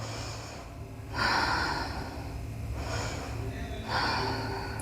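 Slow, deep breaths are heard up close in a beginner hatha yoga session during a seated twist. Two long inhales and exhales rise and fall in a steady rhythm over a quiet room.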